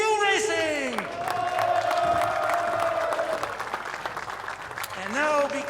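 A crowd at the Zolder circuit in Belgium cheers and claps for the TCR Europe race winner, a sustained roar with whoops and shouts beneath a loudspeaker voice that rises at the start and end.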